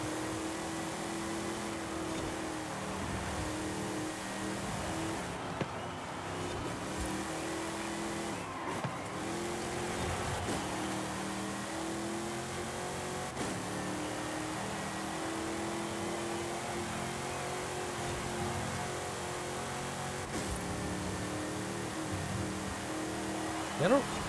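A race car engine in Forza Horizon 5 drones loudly through a race, revving and shifting with occasional tire squeal, heard alongside speech.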